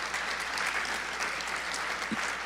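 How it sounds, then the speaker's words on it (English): Steady audience applause for chef Beejhay Barhany after a cookbook talk and cooking demo, an even, sustained patter of many hands at moderate level with no pauses. "let's give a big round of applause for Beejhay Barhany"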